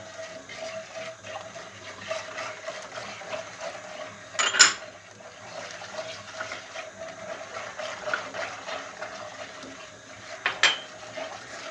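Supangle ingredients being stirred in a pot before boiling, with steady soft scraping and light clinks of a spoon against the metal, two sharper knocks standing out, close and moderately quiet.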